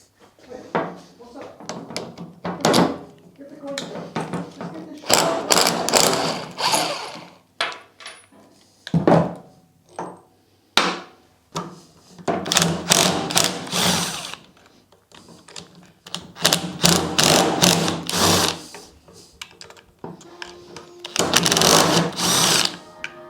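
A ratchet works on a car alternator as it is removed and taken apart, giving rapid clicking bursts in repeated spurts, separated by pauses, clunks and handling noises, with occasional talk between.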